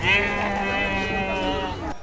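A sheep at a livestock market lets out a single long, wavering bleat close by, steady and loud for about two seconds before cutting off.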